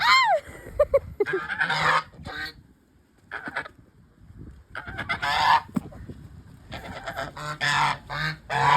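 Several geese honk loudly and repeatedly nearby in bursts, with short quiet gaps between their calls.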